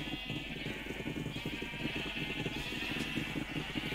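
Sheep bleating in Minecraft, repeated wavering bleats from several animals close by over a steady background hum, continuing throughout.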